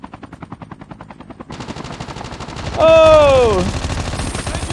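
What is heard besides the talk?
gunfire in Call of Duty Mobile video game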